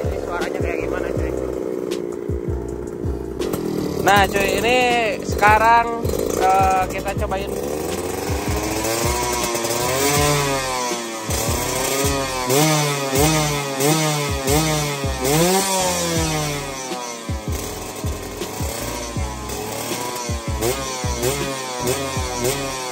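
A Suzuki RC100 motorcycle with a big 34 mm TM carburetor revs repeatedly from idle, its raspy two-stroke engine climbing and falling through rapid throttle blips, close and loud, with someone speaking briefly at the start.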